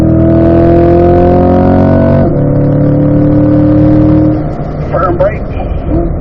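A race car accelerates hard out of a corner toward the middle of the road, its loud, close engine drone holding steady harmonics, then briefly dipping and turning rougher and more ragged near the end.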